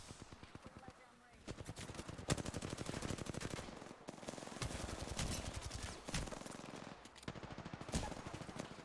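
Rapid automatic gunfire bursts from a shooter video game, loud and repeated in stuttering volleys across the whole stretch, with a voice talking over the shooting.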